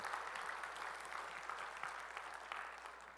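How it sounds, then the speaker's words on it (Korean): Congregation at a Sunday church worship service claps together in steady, sustained applause that fills the room for a few seconds at an even loudness, with no voices standing out. "우리 찬양을 봐주시니까 영광의 박수 올리겠습니다."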